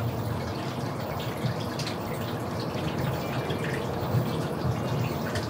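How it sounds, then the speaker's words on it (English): Hot simple syrup is poured into a plastic bottle, a steady soft trickle of liquid with faint dripping running throughout, close and quiet, with no talk. "We're gonna take this, pour it into one of these bottles."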